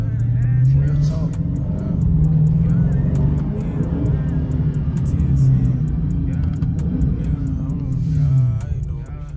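A Dodge Charger Scat Pack's engine hums steadily from inside the cabin while driving, with a low, continuous drone that rises and falls slightly throughout and stays loud and close.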